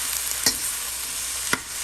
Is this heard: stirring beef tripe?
yes